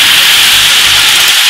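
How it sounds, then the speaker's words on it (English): A blender blends apples with cinnamon, giving a loud, steady whirring roar with a hissy edge that runs unbroken from start to finish. "Just blend it with cinnamon"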